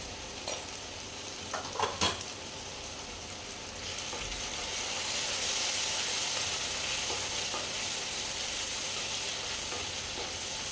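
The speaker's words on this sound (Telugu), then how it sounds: "ఈ టమాటా ప్యూరీ మొత్తం పచ్చివాసన పోయేదాకా ఫ్రై చేసుకుందాం ఆయిల్లో" Tomato puree frying in oil for a Nellore-style fish curry sizzles steadily, rising to a fuller, louder hiss midway, with a few sharp utensil clinks early on and no talking.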